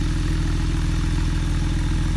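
A 2017 Porsche Carrera 4 with sport exhaust idles close by in a steady, even low rumble with a fine rhythmic pulse, with no voices over it.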